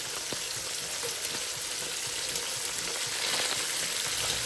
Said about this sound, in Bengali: এই যে এখানে দুই কড়াইতে ভাজা শুরু করে দিলাম